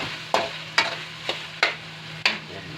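Meat spits and sizzles in hot oil in a pan, with five sharp stirring scrapes spaced about half a second apart over a faint steady frying hiss.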